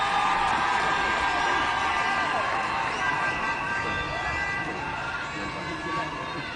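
A large crowd at the swearing-in ceremony of Kenya's Deputy President-elect Kithure Kindiki applauds and cheers in a dense, steady roar that holds throughout and fades only slightly toward the end.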